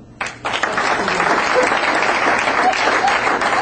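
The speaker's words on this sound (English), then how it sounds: "By a round of applause, how many men in this room have ever been in an argument with a woman?" A room full of men bursts into loud, sustained applause at a comedy talk, dense clapping rising sharply after a brief pause and holding steady to the end.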